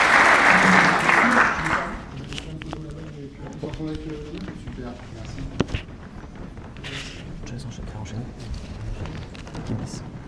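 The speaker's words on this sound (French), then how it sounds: "Je pense que vous pouvez même vous-même vous applaudir" An audience at a regional amateur football awards ceremony applauds, a loud burst of clapping for about two seconds that fades into scattered claps, shuffling and murmuring voices across the room.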